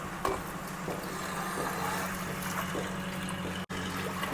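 About a liter of water poured into a pot for jackfruit gravy, a steady continuous splashing pour heard up close with no talking.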